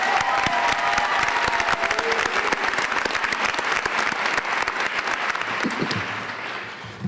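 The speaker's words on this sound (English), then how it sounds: "Let's have one more round of applause for all our awardees, please." An audience at a Graduate College of Social Work convocation applauds its awardees, a full, sustained wave of clapping with faint cheering that tapers slightly toward the end.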